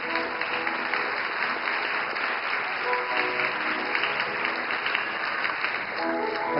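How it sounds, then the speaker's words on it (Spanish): A church congregation claps loudly and steadily during a Spanish-language sermon, a dense, even wash of applause that holds without pause throughout. "dale un aplauso fuerte a Jesucristo"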